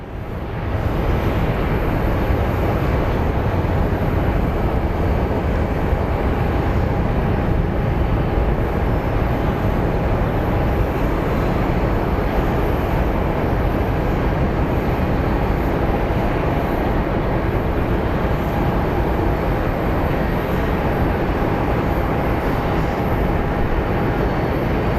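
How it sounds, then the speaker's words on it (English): A Boeing 737-800 airliner arriving from Kansas City at Phoenix Sky Harbor, heard as a steady, loud broadband roar of jet engines that holds evenly throughout with no talking. "our next plane is a 737-800 series coming from Kansas, from MCI"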